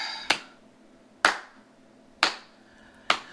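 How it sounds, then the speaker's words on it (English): Four slow, evenly spaced hand claps ring out alone as a sound effect in a Super Mario World hack video game. "Slow clap."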